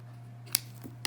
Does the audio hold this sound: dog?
no